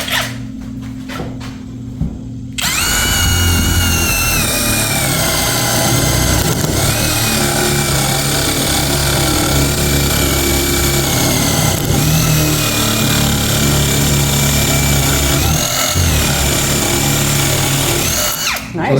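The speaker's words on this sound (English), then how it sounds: "There you can see that drill's got a lot of power." A small cordless impact drill fitted with a wood bit bores into a wooden 4x4. After a quiet moment the motor whines up loud and holds a steady, strained drone, with brief dips in pitch as the bit bites, and no talking.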